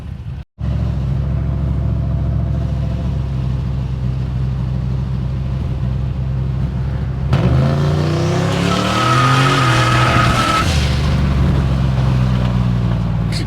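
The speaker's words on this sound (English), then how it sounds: "just spins the tires at like, oh, we were going like 30" A turbocharged Chevrolet El Camino spins its tires, a loud continuous engine roar that swells into squealing, screeching rubber midway through, close and sustained with no talking.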